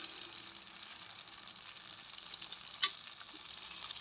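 Pasta frying in a pan as it is stirred, a faint low sizzle with light scraping, broken by one sharp clink near the end.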